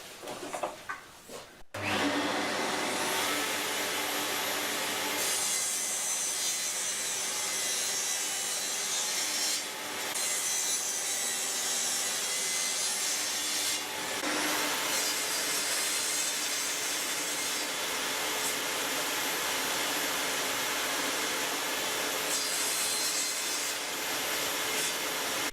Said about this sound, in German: da schneide ich jetzt immer noch einen Streifen runter, die Kreissäge ist noch eingestellt auf die Stärke hier.